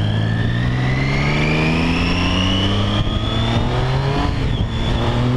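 A Triumph Street Triple motorcycle on a ride gives a loud, close engine note that rises and falls through the gears, with steady road rush under it and no talking.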